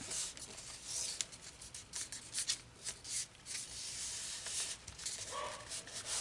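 Paper card stock being handled, rubbed and folded after peeling off adhesive backing, close quiet scraping and rustling in irregular bursts with soft crinkles, no voices.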